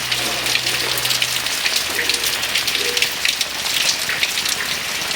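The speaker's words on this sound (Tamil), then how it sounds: "ரொம்ப நாள் கழித்து மழை வர்றதுனால நான் நனையலான்னு பார்த்தேன்" Rain falls steadily, spattering on surfaces with fine crackling drops and a soft low hum in the background early on. No one speaks.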